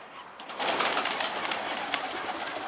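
A stray pigeon lands at a pigeon loft, with soft cooing and fluttering amid a broad, rushing outdoor noise that swells after a quiet moment.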